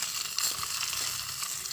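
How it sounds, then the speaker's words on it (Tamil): Onions sauté with curry leaves in a hot pan, giving a steady close hiss of sizzling oil with faint stirring clicks and no talking. "வெங்காயம் வதக்கணும் முன்னாடி."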